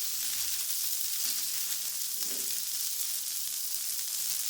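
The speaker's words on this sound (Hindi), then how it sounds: "जब ऑयल गर्म हो जाएगा फिर हम इस तरह से पैटियां डाल के इनको दोनों साइड से फ्राई कर लेंगे" Burger patties frying in hot oil in a pan, a continuous close sizzle with a faint low thump partway through as they settle.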